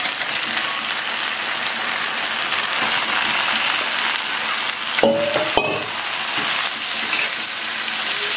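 Washed chicken pieces fry in hot oil with a loud, dense, continuous sizzle, broken by a couple of sharp clinks from a utensil partway through.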